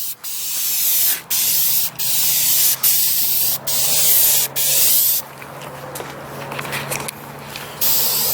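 A spray can of clear coat is sprayed onto a car bumper in short, loud hissing bursts with brief gaps between them, followed by quieter handling sounds and one more burst at the end.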